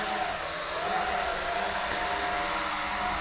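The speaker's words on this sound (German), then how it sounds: "Wir starten die Drohne" A Tactic Air drone's small motors whir steadily as it hovers indoors, a dense, even high-pitched buzz that holds without a break, close and loud.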